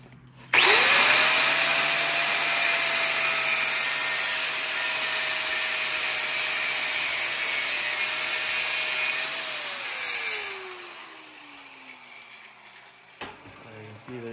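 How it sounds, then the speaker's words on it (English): A power tool cuts the end off a bolt on a K Series engine block: a loud, sustained high whine starts abruptly, holds steady for about nine seconds, then spins down and fades, with a faint knock afterward. "So you gotta cut the end off of the bottom of this bolt,"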